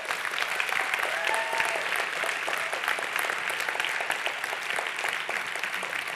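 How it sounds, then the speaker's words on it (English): Sustained audience applause fills a conference hall at a European Greens party congress in Dublin, a dense, steady wash of clapping with faint voices mixed in. "I wanted to ask you to applaud them"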